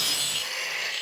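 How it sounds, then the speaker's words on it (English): Angle grinder cutting into a rhenium metal sample, giving a steady, loud high-pitched abrasive rasp that holds without a break for about a second, with no voices over it. "angle grinding."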